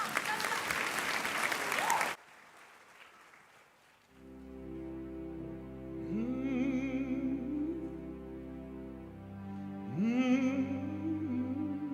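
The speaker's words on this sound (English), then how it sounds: "Please give a round of applause to the group." Graduation ceremony audience at UFS applauds a group in a short, full burst of clapping lasting about two seconds, then it cuts away to quieter sustained tones.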